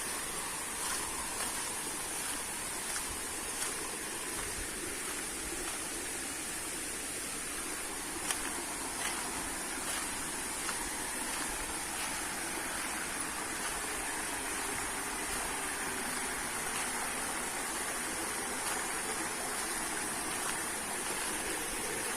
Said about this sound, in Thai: เป็นทานน้ำตกแบบเล็ก ๆ นะครับ